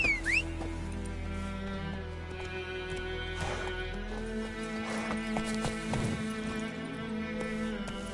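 The horse Roach galloping in The Witcher 3, with rhythmic hoof clip-clops over steady game music, a short neigh near the start, and no talking.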